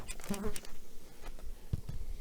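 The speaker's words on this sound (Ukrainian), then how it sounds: "Ця бджолина родина по силі більша." A honeybee colony during a spring hive inspection at a small apiary, a low close buzz of bees in the background under a voice and some handling noises.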